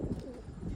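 A pigeon coos softly at a pigeon loft, one short low murmuring call heard close but faint.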